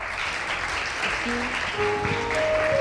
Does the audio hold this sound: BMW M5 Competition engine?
no